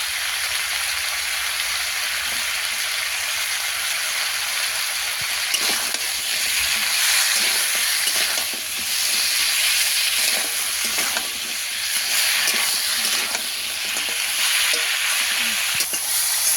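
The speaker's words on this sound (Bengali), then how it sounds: "দিয়ে আবারও সব কিছু ভালো করে ভেজে নেব। লবণ দিয়ে দেব।" Sea crab and tomato fry together in a pan with salt, making a steady hissing sizzle under occasional stirring scrapes and bursts of crackle, close and fairly loud, with no voices.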